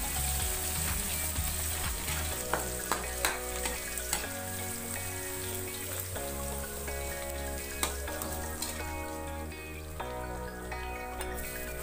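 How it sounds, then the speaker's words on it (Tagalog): Garlic sautés in a pan for ox-tripe soup, crackling and sizzling steadily while a utensil stirs and taps against the pan, with background music running underneath. "Igisa po natin ang bawang. Haluin lang po natin ito ng haluin upang hindi po masunog."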